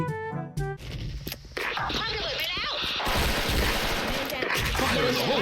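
Loud, sharp revolver gunshots from a Smith & Wesson M629 crack in quick bursts amid crashes and video game noise, with a voice talking over parts of the action.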